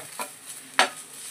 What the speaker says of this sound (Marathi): जोपर्यंत सुक्क होत नाही तोपर्यंत मी हे असं हलवून घेणार आहे